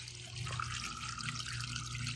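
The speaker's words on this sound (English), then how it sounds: "the water turns on and floods to about here." Water flowing into an ebb and flow hydroponic system growing large-leaved plants, a steady close rushing and trickling fill with no talk over it.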